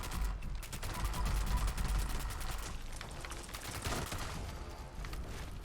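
Rapid, continuous automatic fire from a handmade rifle with quad faster fire rate in Fallout 4, aimed at a Mirelurk Queen; dense volleys of loud shots roll on without pause for several seconds, with game effects underneath.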